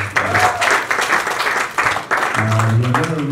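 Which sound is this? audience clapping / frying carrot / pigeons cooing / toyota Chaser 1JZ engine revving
audience clapping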